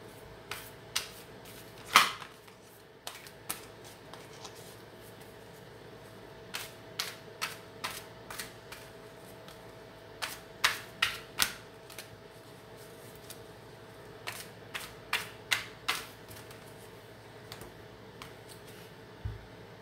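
Oracle cards being handled and shuffled, scattered crisp taps and flicks coming in irregular clusters, close and fairly quiet, with no talking.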